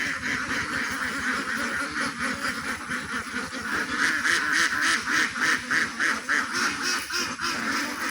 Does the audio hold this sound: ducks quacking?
yes